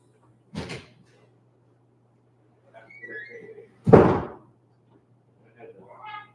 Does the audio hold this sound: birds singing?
no